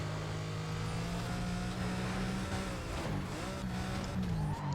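Car engine in the racing game Need for Speed Carbon, a steady loud drone that climbs in pitch as it speeds up, with faint tyre noise and no talk.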